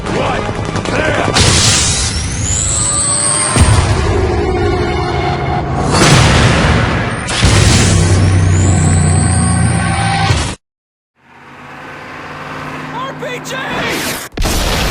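In the Modern Warfare 3 video game, a breaching charge detonates with heavy booms and gunfire bursts, loud and close, followed by a brief silence and then more blasts.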